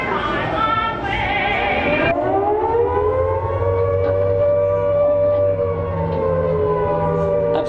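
An air raid siren wails loud and steady, its tone rising into a long sustained howl that holds level throughout, with no voices over it.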